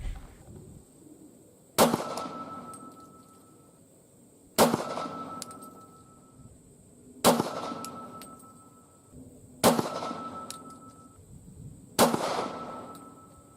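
Five sharp, loud .40 caliber pistol shots using MagTech ammo at an 8-yard range, evenly spaced about every two and a half seconds, each with a ringing decay and no speech.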